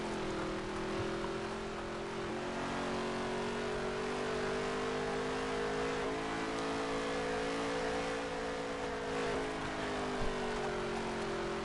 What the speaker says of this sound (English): Headline running half a lane higher than the number 9 car of Crow Dog. Down the back straightaway we roll.